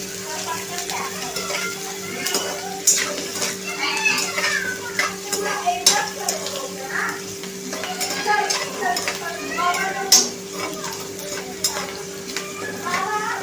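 Chopped onion frying in a pan for upma, stirred with a spoon that scrapes and clinks against the metal; a light, steady sizzle runs underneath with a faint hum, and occasional soft voice sounds appear.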